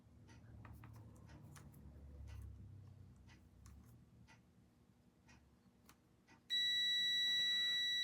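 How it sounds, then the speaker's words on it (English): A multimeter in continuity mode, testing a shop vac switch, gives a sudden loud steady beep after several seconds of faint clicks and quiet room noise, and the tone holds to the end. "If the switch is good, we should have a beep here."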